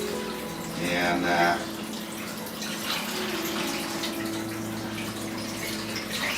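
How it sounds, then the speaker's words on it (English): Tomatoes are washed under running tap water, a steady close splash and gush of the faucet with a brief louder burst, under someone speaking. "Wash these tomatoes down,"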